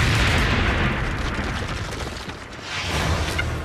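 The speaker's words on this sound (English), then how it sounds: "The Switchblade then flies into that target and detonates, taking out that target and removing the threat." A Switchblade loitering munition detonates on its target, a loud sustained roar of blast and rumble that swells at the start, dips and rises again, with no voices.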